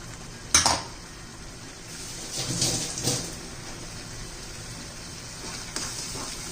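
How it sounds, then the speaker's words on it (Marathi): Tomatoes sautéing in oil in a pan for a black chana masala, with faint background sizzle and a few scattered clinks and scrapes of a spoon against the pan, fairly quiet and close, no voices. "ते पण चांगले कच्चेपणा टोमॅटोचं जाईपर्यंत आपण याला दोन तीन मिनिटं चांगलं परतून घेणार आहोत शिजून घेणार आहोत टोमॅटो"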